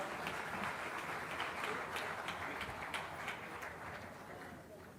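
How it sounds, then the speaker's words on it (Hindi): Audience at a tourism pre-summit event in Jaipur clapping to welcome Rajasthan's chief minister, a continuous wash of hand claps that gradually softens, with faint voices underneath. "जोरदार तालियां हो जाए।"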